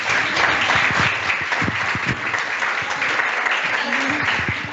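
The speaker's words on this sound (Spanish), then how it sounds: "Un aplauso, por favor, cálido." An audience at a talk applauds warmly in a sustained, even wave of clapping, with a voice speaking faintly over part of it.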